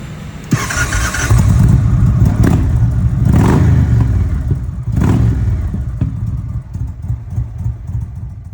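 A 2015 Harley-Davidson Ultra Limited motorcycle engine rumbles loudly through its pipes, close by. It swells in several throaty revs over a steady idle, with no voices.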